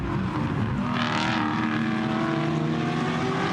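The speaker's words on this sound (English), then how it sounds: "The rumble of the Maserati, very distinctive engine notes as it accelerates away." Maserati GT4 race car accelerating away at Misano during a GT4 European Series race: a loud, continuous rumbling engine note that climbs and holds through the clip with no voices.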